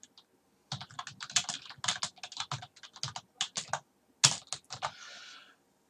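Someone types a title into a note-taking app on a computer keyboard, a quick run of close, crisp keystrokes that comes in bursts with short pauses and ends in a last flurry.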